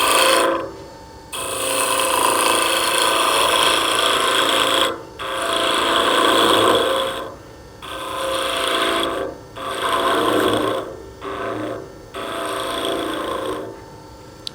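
Woodturning tool cutting a timber blank on a lathe while shaping a Christmas tree, a steady close rasping scrape in several bursts of a second or two, separated by brief pauses as the tool lifts off the wood.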